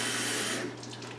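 Water runs from a tap into an electric kettle for a moment while preparing for water-bath canning. The stream gushes loudly, then softens as the kettle fills, with no talk.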